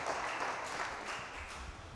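Church congregation applauding at a Sunday service, a steady even wash of clapping from many hands that holds at moderate level throughout without pause.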